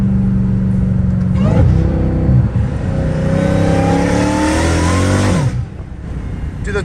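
A catless Dodge Hellcat Redeye accelerating on a street, a loud close supercharged roar climbing in pitch through the gears, with a brief drop between shifts before easing off.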